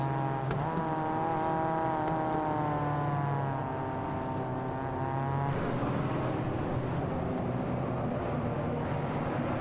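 Mazda race cars in a racing video game circling Sebring in the rain, a steady engine drone with shifting harmonic tones and hiss of spray, no talk.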